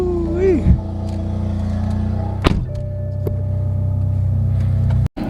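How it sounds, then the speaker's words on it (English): BMW M3 E30 fitted with a competition Valvetronic exhaust, heard from inside while driving: a steady, loud engine drone runs throughout, with a sharp exhaust burst or gear-change thunk midway and a brief dropout near the end. "I absolutely love driving the M3, and the car sounds insane. So competition exhaust."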